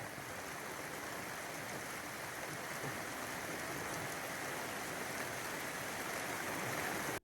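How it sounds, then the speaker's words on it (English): Heavy rain pours steadily onto a camper whose roof is leaking, a dense, continuous hiss and patter that stays loud and unbroken throughout with no voices. "it's done nothing but rain"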